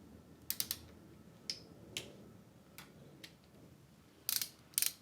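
Bolts on a motorcycle cam cover being torqued down by hand tool, giving a scattering of sharp close ticks and clicks, a few isolated snaps early on and then two quick ratchet-like bursts near the end, with no talking.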